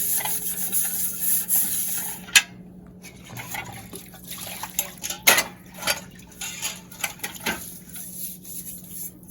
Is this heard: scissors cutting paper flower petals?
no